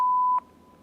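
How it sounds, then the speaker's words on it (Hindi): A single short electronic beep signals an incoming phone call, a clean steady tone lasting under half a second before cutting off into quiet background. "एक इंपॉर्टेंट कॉल आ रही है"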